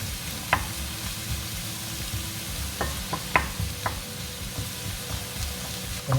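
Lamb meatballs and onion frying in oil and rendered lamb fat, a steady close sizzle with a few sharp stirring clicks and scrapes scattered throughout, no voices.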